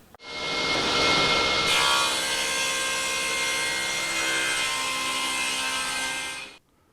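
A loud, continuous roughing saw bites through wood for several seconds, a harsh grinding roar that holds steady, then cuts off abruptly.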